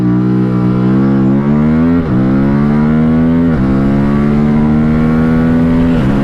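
A 2025 Aprilia Tuono 457 motorcycle accelerates hard from a standstill, its loud close engine note climbing steadily through several gears, with brief dips at each upshift.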